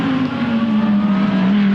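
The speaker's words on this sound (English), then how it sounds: "The Shaw & Partners Audi going for another lap here" A Shaw & Partners Audi GT race car laps the Darwin circuit in GT World Challenge Australia qualifying, its engine a loud, steady sustained drone throughout with no talk.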